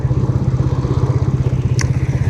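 A Royal Enfield motorcycle engine thumps at a loud, close idle with an evenly pulsing beat, and a brief sharp click sounds near the end.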